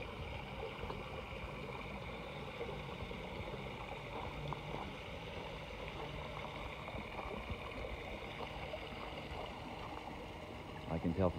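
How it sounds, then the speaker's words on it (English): Continuous running water from a pool's waterfall feature splashing steadily into the pool, heard from a short distance with an even, unbroken wash of sound. "Pool has a nice waterfall feature."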